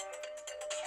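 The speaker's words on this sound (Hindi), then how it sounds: "अरे रिंग हो रहा है, फोन उठाना।" A phone ringtone plays in repeating bursts, moderately loud and close, with a steady tonal line under bright pulsing chimes and no talking.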